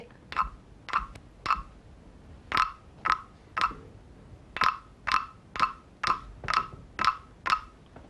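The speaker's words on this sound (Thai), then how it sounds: "พี่ตุ๊กตาเคาะจังหวะนะะเสียงกบกับเสียงพพมร้องพร้อมกันได้เลย" A wooden frog percussion instrument is tapped in a steady rhythm, about fifteen sharp, rasping strikes in a clear beat with short gaps between them, close and distinct against a quiet background.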